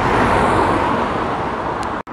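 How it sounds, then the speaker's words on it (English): Dense early-morning road traffic streams past on a street in Hebden Bridge, a loud continuous roar of tyres and engines that holds steady before cutting off abruptly near the end. "it's a bit noisy, it's early morning, lots and lots of traffic going past"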